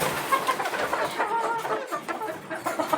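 Several native chickens cluck softly together nearby on a poultry farm, a low continuous flock chatter without any talking.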